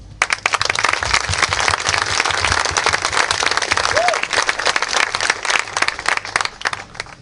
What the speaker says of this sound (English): President Armenti and the leadership of Cal deserve a round of applause